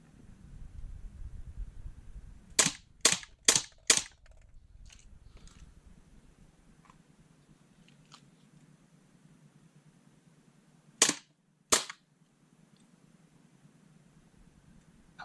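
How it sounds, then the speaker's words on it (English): Umarex air pistol firing in quick succession: four sharp, close pops in a rapid cluster, then two more shots several seconds later, over faint mechanical handling noise. "just so I can get closer to the pistol and have some shots"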